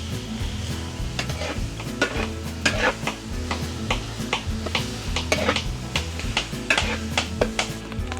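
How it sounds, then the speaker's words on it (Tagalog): Garlic sautéing in a pan in a rustic countryside hut kitchen, a steady close sizzle broken by repeated stirring scrapes and clinks of a utensil against the pan. "Babanguhin muna natin ang bawang."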